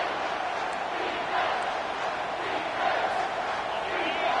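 Home crowd at a college football game roars in a sustained, loud wall of cheering and yelling as the defense faces third down late in the game, with no break.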